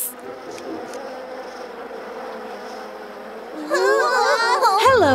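A steady honeybee buzzing hums through the clip, then high, wavering childlike voices rise over it near the end.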